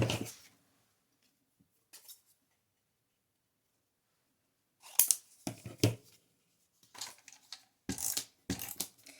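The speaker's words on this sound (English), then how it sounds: "this is when you'll need your pair of scissors" Scissors cutting paper while making a scrapbook layout, a few short crisp snips and rustles separated by quiet gaps, close and alone.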